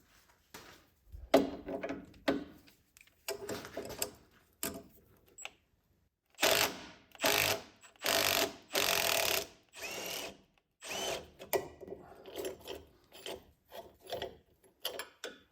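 Socket wrench work on a 15 mm stabilizer link bolt of a Chevy Silverado, with bursts of close ratcheting and mechanical clicks, then a run of loud, evenly spaced rapid ratchet strokes in the middle, followed by scattered clanks.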